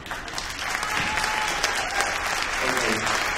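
Concert audience applauding in a hall, a steady dense wash of clapping that sustains at even loudness throughout, close and fairly loud.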